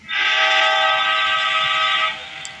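A train in a video game sounds a single sustained horn blast lasting about two seconds, loud and steady before cutting off, with a low rumble underneath.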